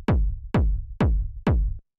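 Four punchy 909 kick drum hits thickened with saturation and compression, evenly spaced about half a second apart, each a hard click followed by a long, booming low tail, alone with no talk.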